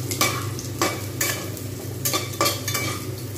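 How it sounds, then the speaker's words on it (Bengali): Onions and fenugreek seeds fry in a pan with a constant close sizzle, broken by several short scraping stirs spaced about half a second apart. "একটু মেথি দানাটা ভাজা হবে"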